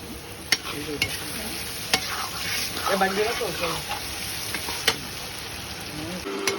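Potato and bitter gourd sizzle steadily in a pan while a utensil scrapes and taps them several times at irregular intervals; faint voices murmur in the background.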